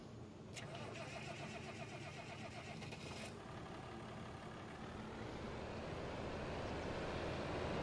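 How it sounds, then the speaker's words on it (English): A tractor engine cranks and catches in the Farming Simulator 25 video game, then settles into a steady mid-pitched idle rumble that continues throughout. "Okay, now let's get that tractor."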